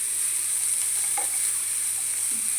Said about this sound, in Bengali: এভাবে পেঁয়াজটাকে সমানে চালিয়ে চালিয়ে ভেজে দেব।